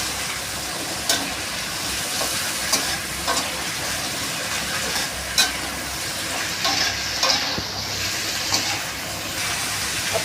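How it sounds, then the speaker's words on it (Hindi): Curry leaves frying in hot oil in a pan for sambhar, a loud continuous crackling sizzle broken by scattered pops and stirring clatter, up close and without speech. "अब डालेंगे कड़ी पत्ता इसमें थोड़ा सा।"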